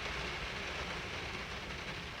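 Rain falls on a parked car, heard from inside as a steady, even hiss of drops on the roof and glass, with no talk.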